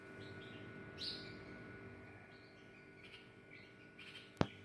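Small birds chirp and tweet intermittently against a quiet outdoor background, with a sharp click near the end.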